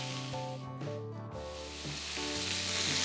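Chopped garlic and sliced onion sizzle steadily in a hot pan while pork ribs are being cooked, a constant bright hiss running under background music with no pauses.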